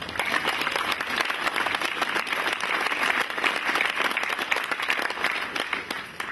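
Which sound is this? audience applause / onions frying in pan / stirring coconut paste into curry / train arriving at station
audience applause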